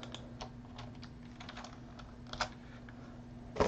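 Rapid computer keyboard typing during a sports card break, a steady run of light key clicks with a louder burst near the end over a low background hum.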